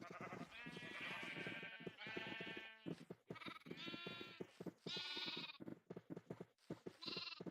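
Sheep in Minecraft bleat repeatedly in short, wavering cries, several overlapping calls in quick succession, close and clear with no talk.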